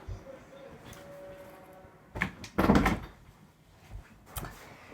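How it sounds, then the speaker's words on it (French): A door is closed indoors, giving a short burst of handling and latch clatter followed by a softer knock, heard close by and alone without talk. "Je vais fermer la porte tout de suite."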